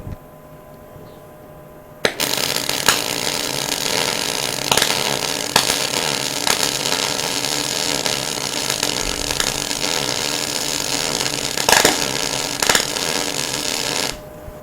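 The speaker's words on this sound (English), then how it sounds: "now we'll go and try another weld and see what it looks like" Flux core wire welding with CO2 shielding gas turned on, a harsh steady crackling buzz close by that starts abruptly after a quiet moment and runs for about twelve seconds with small sputters before cutting off.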